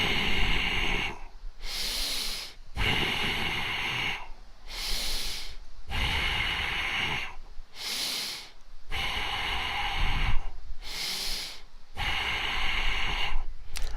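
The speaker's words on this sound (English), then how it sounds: "That's a sample of what the dynamic tension breathing exercises that we will be doing." A person doing a seated dynamic tension breathing exercise, loud forceful inhales and exhales through the nose and mouth alternating in a regular rhythm about every second or so, close up, with no speech.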